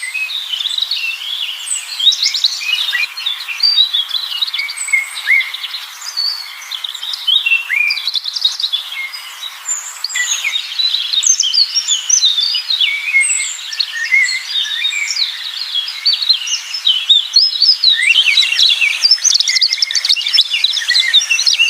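A tailorbird chirps in a bright, busy chorus of high twittering calls that keep going without a break. The calls sound close and fairly loud, with no voices.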